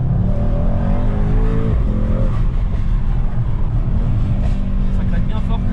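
A Mercedes-AMG GT 63 S sports car engine revs up sharply, drops back, then settles into a loud, throaty idle nearby.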